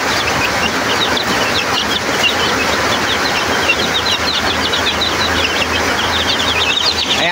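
Pet chicks feeding under a heat lamp in a dark brooder, a dense chorus of constant high peeping and chirping with soft scratching and fluttering, close and continuous.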